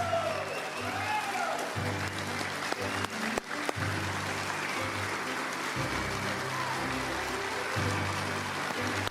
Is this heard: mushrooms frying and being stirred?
no